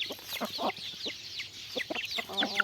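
Red junglefowl kept for breeding cluck and chatter close by in a busy, overlapping flurry of short calls and squawks, with no people talking.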